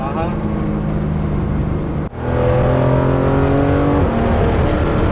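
A Porsche GT3 RS engine roars loudly and steadily, cuts off briefly, then revs back up to a strong, sustained roar with shifting pitch.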